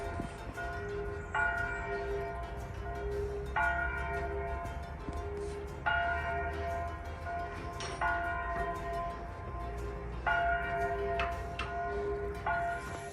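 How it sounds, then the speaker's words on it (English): Church bells ring out at noon in a slow, repeating pattern of clear tolling strikes over a steady background hum, moderately distant and without talk, in Italy. "every lunchtime, the Lovero church sings its bells"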